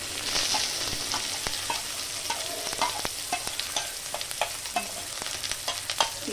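Onions sizzling in very hot oil with garlic for a spicy brinjal bharta, a steady bright crackle with frequent sharp pops and clicks of stirring, close and continuous throughout.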